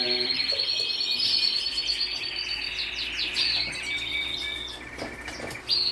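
Captive birds chirp and tweet indoors in quick, busy bursts of high calls that overlap continuously, fairly close and loud, with no talking.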